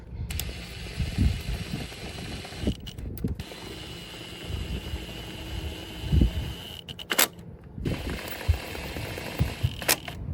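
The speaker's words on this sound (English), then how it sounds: "I am using an electric gun, but I'm not going to tighten them all the way down with this." Electric impact gun running the oil filter housing screws on a 2021 Can-Am Renegade 1000R XMR ATV, with short mechanical whirring and ratcheting bursts and clicks close by, spread irregularly across the clip.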